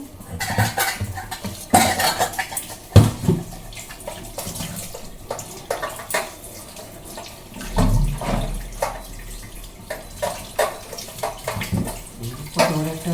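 Live catla fish are washed by hand in water, with repeated splashes and sloshing plus occasional clatter against a metal pot, loud and close, in bursts of varying strength.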